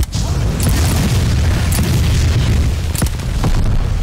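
A grenade explodes in Call of Duty: Vanguard during jungle combat: loud, dense booming with several sharp blasts rising out of a continuous roar of battle noise.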